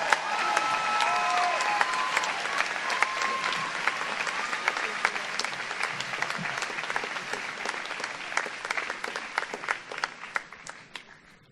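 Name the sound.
applause at a class day ceremony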